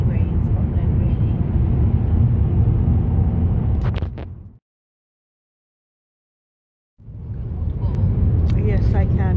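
A car drives along a road in Scotland, its steady low interior rumble filling the cabin, cutting to silence for a couple of seconds midway before the rumble resumes; voices talk over it.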